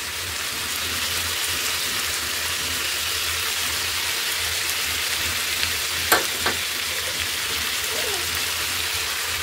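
Chopped onions with ginger paste frying in a pan, giving a steady, close, hiss-like sizzle at even loudness, broken by a couple of brief clinks near the middle.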